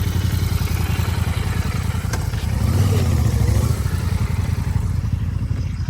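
A motorcycle rides uphill on a route toward a hilltop temple, its engine a steady continuous drone close by with a slight swell midway, no voices heard.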